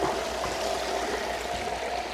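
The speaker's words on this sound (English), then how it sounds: "The waterfall is working." Pond waterfall pouring steadily into the water after a filter overhaul, a continuous even rush and splash with no pauses and no voices.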